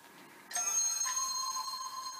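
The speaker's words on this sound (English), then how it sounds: "Oh, there goes the phone again. There's another post on Facebook, I suppose." A phone plays a short, bright chiming notification tone for a Facebook post, starting suddenly after a quiet moment and ringing on at moderate level in a quiet room.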